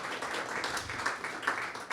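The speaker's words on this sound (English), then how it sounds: "Can we get a round of applause for the great work they're doing there in Kansas City?" Audience applause at a civic hacking tech showcase, a brief, fairly quiet patter of clapping from a modest crowd.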